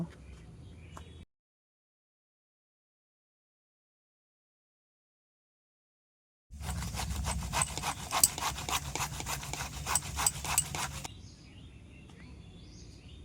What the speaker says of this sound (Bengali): এবার আমি এই গ্রেটার দিয়ে লাউটাকে গ্রেট করে নেব